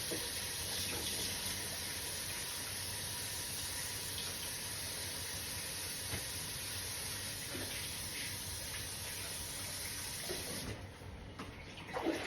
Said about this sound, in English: Draining that rice, the water is clear.